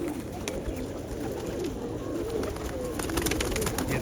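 Soft, low cooing of pigeons blends with a steady background murmur and occasional clicks and rustles, continuing throughout.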